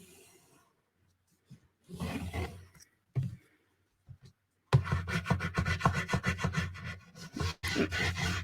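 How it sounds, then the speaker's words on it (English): Burnishing tool rubbed firmly across a junk journal cover, a few brief scrapes and then a sustained run of rapid back-and-forth rasping strokes, close and fairly loud. "I'm going to go thin burnish it really, really well"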